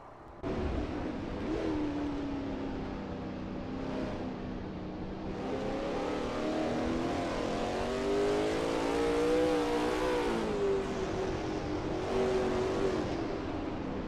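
Lola T70 MkII Spyder race car driven hard around Bathurst in a racing game, a steady loud engine drone rising and falling in pitch through gear changes and throttle, continuous for the whole stretch.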